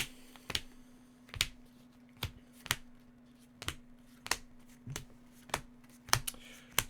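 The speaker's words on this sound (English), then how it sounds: "let's go ahead and power shuffle this thing up" A Yu-Gi-Oh card deck is power shuffled by hand, about a dozen crisp slapping riffles in a steady rhythm roughly every half second, close and distinct over a quiet low hum.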